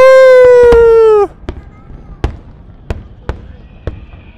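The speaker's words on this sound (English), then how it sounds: "This is firework." A long steady tonal blast gives way to a series of five sharp fireworks bangs, spaced irregularly and echoing a little at a distance, during Qatar National Day celebrations.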